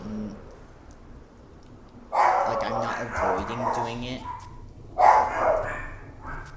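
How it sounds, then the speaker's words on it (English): Several dogs bark in two loud bursts indoors, with a person talking quietly before and between them. "My dogs are barking now."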